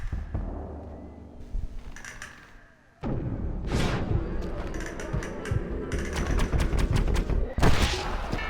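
Gunfire in a video game set in a Mexican desert, with rapid bursts of shots and booming impacts, loud and close, after a quieter opening stretch.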